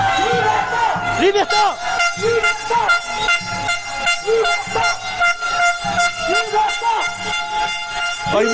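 Repeated loud horn blasts from a taxi at a street demonstration in Bastia, short honks in an uneven rhythm, with a chanting crowd and voices under and between them.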